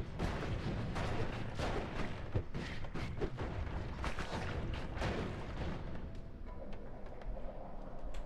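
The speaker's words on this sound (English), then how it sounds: "It's my new bomb wand." Bomb wand blasts in the pixel-physics game Noita erupt in a dense, continuous barrage of rumbling booms and crackling bursts, loud and without pause, dying down slightly near the end.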